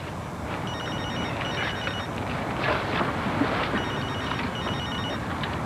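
A cell phone rings outdoors in a park, sounding two bursts of a chirping electronic trill, a pause, then two more, over steady wind and background noise, with no talk.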